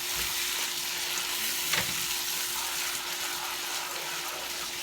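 Curry chicken fries and sizzles in a pot, with steady broadband crackle and occasional stirring scrapes, close and continuous with no talk.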